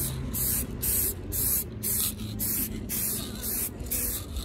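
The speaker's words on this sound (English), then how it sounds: "I'm just going to give these forks a last little coat here" Short repeated bursts of aerosol spray as black enamel paint is applied to Honda CBF125 motorcycle forks, each hiss about half a second long in a steady rhythm, close and fairly loud.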